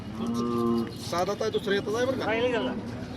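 A cow moos loudly and close at a cattle market in Modnimb, a long low call followed by a rising, wavering second moo, with a busy crowd murmuring in the background.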